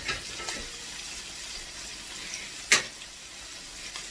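Thick-cut pork chops searing in a hot pan give a soft, steady sizzle, with a sharp clatter around the middle and a few light clicks, no voices.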